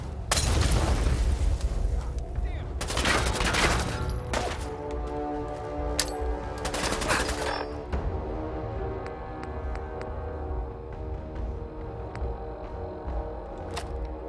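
In Fallout 4, loud booming blasts and bursts of gunfire dominate the first half, heavy explosions with crackling bursts, then fade into a sustained ringing tone with scattered faint pops.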